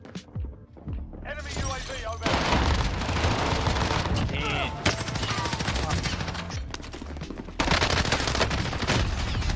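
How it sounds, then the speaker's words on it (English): Dense gunfire from a Warzone match rattles in fast bursts of rifle and machine-gun shots with booms and impacts. Enemies fire from above, loud and close, under continuous chatter from a player. "At the start of this clip, you can hear that they're shooting above me."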